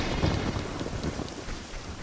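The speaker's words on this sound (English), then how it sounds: "Link can enter Kakariko Village to find a storm raging in town." Rain and a thunderstorm in Kakariko Village in Ocarina of Time, with a dense, steady downpour and a low rumbling that carries through a short stretch with no voices.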